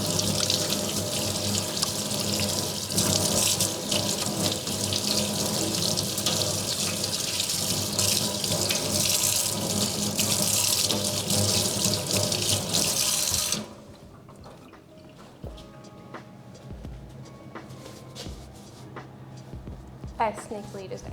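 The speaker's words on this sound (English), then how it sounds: "I'm gonna wash my hands" Hands being washed under a running kitchen tap while baking peach tarts, with a steady close gush of water for about fourteen seconds before it shuts off, leaving quieter handling noises and small drips.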